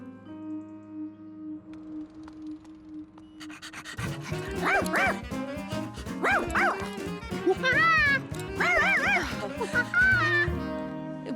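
A cartoon dog pants and whimpers in quick high yips and short barks, close and lively, following a quiet stretch of soft music.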